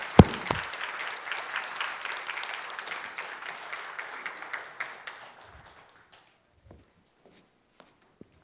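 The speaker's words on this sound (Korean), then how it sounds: "다시 한번 박수 할까요?" A church congregation applauds an infant baptism during a Sunday service, a dense burst of clapping from many hands that gradually thins out and fades to scattered claps and near silence.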